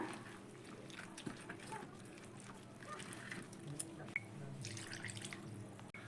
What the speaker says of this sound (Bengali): এইভাবে কিন্তু অল্প অল্প করে জল দিচ্ছি, তারপরে ব্যাটারটা খুব সুন্দর করে আমি রেডি করে নিচ্ছি।